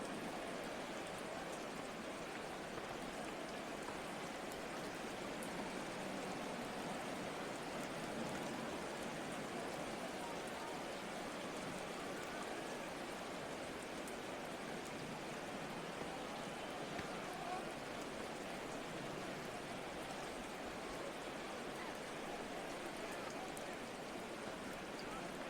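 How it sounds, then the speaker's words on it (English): Rain falling during a game of Madden NFL 24, a steady, even hiss of downpour that stays faint and unchanging throughout. "Forecast calling for more of the same. The rain set to continue as we are underway"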